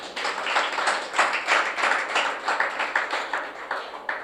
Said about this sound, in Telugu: మళ్ళీ చప్పట్లు కొట్టండి ఒకసారి.